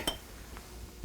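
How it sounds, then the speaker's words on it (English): Vegetables go into a roasting pan for duck with orange sauce. A few soft, scattered clinks and knocks of food against the metal pan sound close and quiet, with no talking. "I want to start putting my vegetables around the bottom of this pan"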